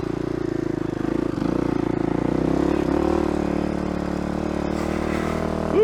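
A motorbike engine strains steadily at high throttle while climbing a steep slope, a loud, close, continuous droning rev that holds fairly even and rises slightly near the end.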